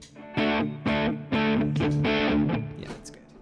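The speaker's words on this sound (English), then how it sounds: "I keep my overdrives at unity gain across the board. Yeah. So it adds distortion without adding volume." An electric guitar runs through an overdrive pedal set at unity gain, giving a distorted, buzzy tone as a few chords are struck in a row, each ringing on, near and clear, with no talk.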